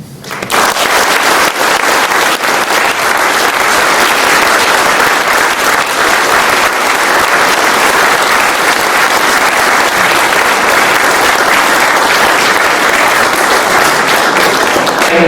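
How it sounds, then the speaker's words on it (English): Conference audience applauding the speakers at a mathematics meeting, a dense, steady roar of many hands clapping that swells in within the first second and holds loud and unbroken for the full duration, with no voices over it. "So let's applaud them and then we'll continue."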